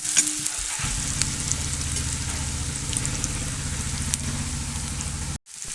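Beef sizzles as it fries in a pan, a steady dense crackle and hiss with a stirring scrape near the start and a brief drop near the end.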